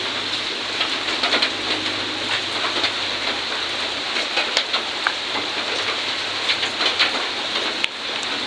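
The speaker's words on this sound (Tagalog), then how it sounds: "Naulan na naman dito sa amin." Morning rain falls steadily in a broadband hiss, with scattered drops pattering close by and faint bird calls now and then. No one speaks.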